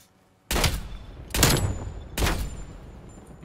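Three loud, sharp gunshots from a sniper rifle in a capture-the-flag shooter video game ring out about a second apart, each blast followed by a rumbling decay.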